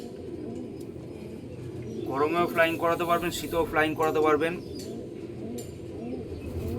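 Someone talks throughout while Andhra pigeons coo nearby in a short burst of repeated, rhythmic calls in the middle.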